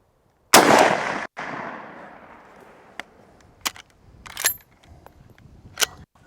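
A Henry 30-30 lever-action rifle fires at a steel target outdoors, one loud close shot with a long decaying echo, followed by several sharp lighter clicks and clanks of the lever action.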